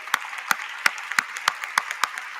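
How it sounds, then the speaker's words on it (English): Audience clapping for conference panelists after a panel discussion, heard as a few distinct, evenly spaced claps about every third of a second, fairly faint and sparse rather than a full roar. "join me with a big applause for our panelists"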